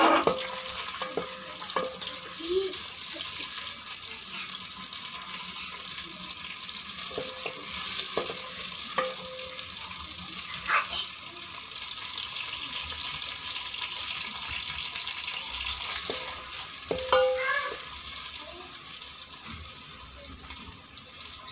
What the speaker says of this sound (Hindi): ये देखें प्याज को हमने इसमें घी में डाल दिया है, अब इसको हम थोड़ी देर के लिए भून लेंगे